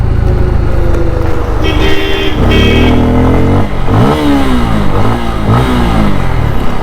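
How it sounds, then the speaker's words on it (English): A Bajaj Pulsar F250 motorcycle engine revs loudly close by, its exhaust note rising and falling in repeated throttle blips over a steady idle rumble. "Let me lock the RPM and raise my throttle."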